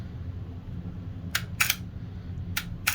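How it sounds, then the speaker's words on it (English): A few crisp mechanical clicks from a Teraoka Auto Terra Super film camera's shutter release, a quick pair followed by another, sharp and close against a low background hum. "When I press the shutter release,"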